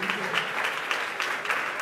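A French-speaking congregation gives the pastor a brief burst of applause, steady clapping from many hands mixed with voices.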